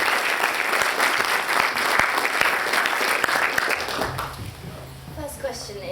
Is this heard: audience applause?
yes